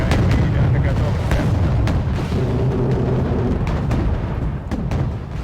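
Naval ship main cannons firing in the Wargame: Red Dragon video game, a dense run of booming shots and blasts packed over continuous low rumble, loud and sustained throughout with no clear gaps.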